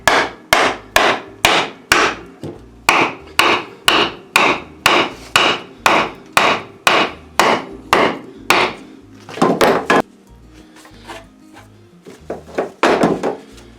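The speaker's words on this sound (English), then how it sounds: "I'm going to hammer this on the whole way." A hammer drives a handlebar grip onto a Can-Am ATV with about sixteen evenly spaced, close, hard thuds. A few quicker, lighter taps and faint handling noises follow.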